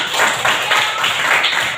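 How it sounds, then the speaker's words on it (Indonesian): A class of pupils claps for themselves during a lesson, a close, loud burst of many hands clapping at once that holds steady for a moment. "tepuk tangan untuk kita semua"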